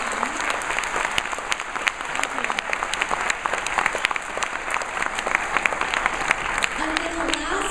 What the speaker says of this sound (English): just want to give them a round of applause